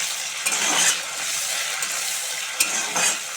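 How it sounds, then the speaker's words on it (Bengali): Dried fish frying in a pan with onions that were cooked until deep red, with a steady sizzle near the microphone and brief clinks of a utensil stirring against the pan. "এই যে মাছ ভালো করে কড়া করে ভাজবো"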